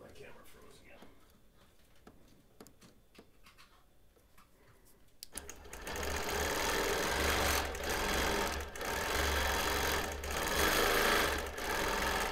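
A sewing machine stitching a quilt made of mixed fabrics: a few soft ticks and handling sounds at first, then the machine runs fast and steady with a loud, close mechanical whir and rhythmic stitching.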